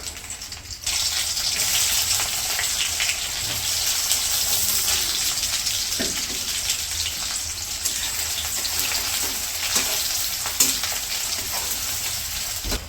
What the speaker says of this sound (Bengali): তারপর হচ্ছে কয়েকটা জিরা দিয়ে দিল তেলের মধ্যে